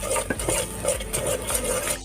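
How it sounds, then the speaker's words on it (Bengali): Spices and fried onions are stirred in a pan with a spoon, giving repeated scraping strokes over a soft, steady sizzle at moderate volume. "মশলাগুলি সুন্দর করে কষাই লইতেছি"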